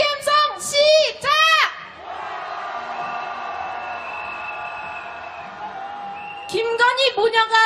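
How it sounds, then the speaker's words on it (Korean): A street protest crowd at a nationwide candlelight march calling for a president's impeachment shouts in unison in loud, rhythmic bursts at the start and end, with a sustained horn-like tone between them. "윤석열 탄핵의 함성 시작"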